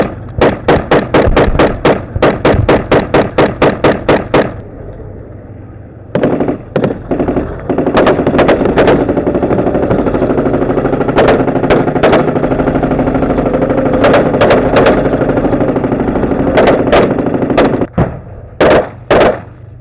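Rifle gunfire in real combat in the Russia-Ukraine war: a rapid string of loud, sharp shots close by, then a steady rumble of action broken by scattered single shots and short bursts.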